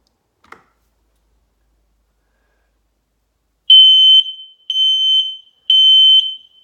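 A hardwired smoke alarm, pressed at its test button, gives three loud, piercing electronic beeps in a steady rhythm after a faint click and a pause of quiet.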